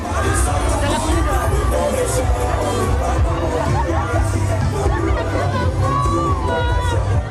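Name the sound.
crowd of thousands scrambling for thrown t-shirts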